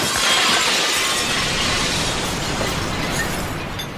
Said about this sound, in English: then the hammer hit the glass, and it exploded into a solid wall of water